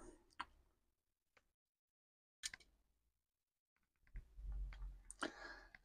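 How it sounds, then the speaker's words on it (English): Small screws are driven into a Titanic partwork model kit, giving sparse faint clicks and ticks with long quiet gaps, then a denser patch of handling noise and light scraping near the end. "screwing these screws in"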